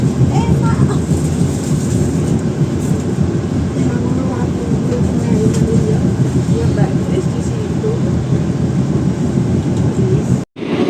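A KA Majapahit economy train runs through Jatinegara station without stopping, a loud, continuous rumble of wheels and carriages that cuts off abruptly near the end, with voices blended into the din.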